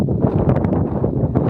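Cold wind blows outdoors on a hill trek trip near Chikmagalur, a steady close buffeting roar across the microphone with no voices.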